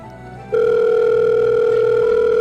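A steady electronic telephone tone starts abruptly after a short quiet moment and holds loud and unbroken to the end.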